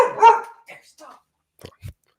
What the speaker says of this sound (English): Puppy, chasing a cat.